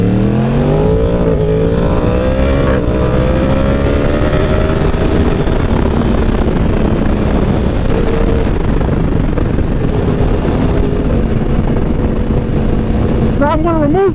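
2015 Yamaha R1M motorcycle pulling hard in first gear, its engine note rising in loud sweeping tones under heavy wind rush, with a rider talking over it.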